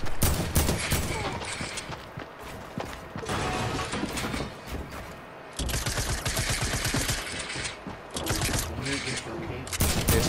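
Gunfire in the Fortnite Battle Royale video game, with rapid bursts of shots and clattering weapon mechanics running almost continuously, under voice chat from players.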